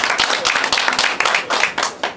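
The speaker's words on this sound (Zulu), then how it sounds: "ngicela sibaye simshayele ihlombe" Audience clapping and applause at a maskandi music event, a brisk crowd of hands with quick irregular bursts, fairly close and loud throughout.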